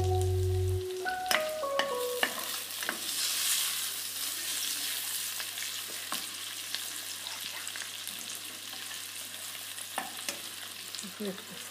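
Golden onion and butter cooking in a pan over very low heat, a steady soft sizzle with occasional stirring scrapes and taps, close and quiet, after a brief tone at the start, with no talking.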